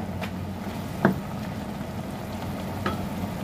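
Mixed vegetables cook covered in a pan, giving a steady low sizzle and simmer with a couple of brief clinks or stirring knocks, and no voices.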